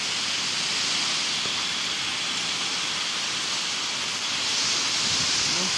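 Water streams and drips steadily along a residential street during a violent windstorm with gusts around 20 m/s, a continuous loud broadband rush of wind and flowing water with no clear individual drops.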